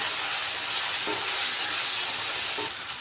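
Chili powder and turmeric being stirred into a tamarind curry with taro in a hot pan: a steady, close sizzle with soft scraping strokes throughout, and no talking.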